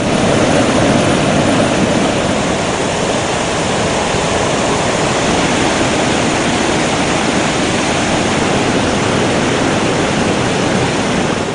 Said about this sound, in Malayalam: തട്ടുതട്ടായുള്ള പാറക്കെട്ടിലൂടെയാണ് വെള്ളം താഴേക്ക് പതിക്കുന്നത്.